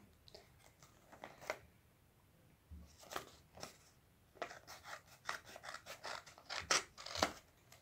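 Scissors cut small paper squares for handmade miniature notebooks, with quiet, irregular snips and crunchy cuts that come in short bursts and grow busier toward the end.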